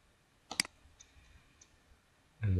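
Quiet computer mouse clicks during software use: a close double click, a few faint ticks, then a louder thump at the end.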